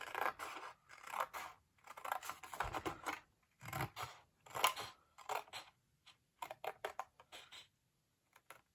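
Scissors cut through paper stickers in a Happy Planner sticker storage book, a series of close, crisp snipping and rasping strokes in irregular bursts with short pauses between them, heard alone without talk.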